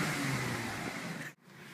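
Idling 2.5-liter V6 car engine with dual exhaust, a steady low rumble with a brief dip near the end before the hum resumes.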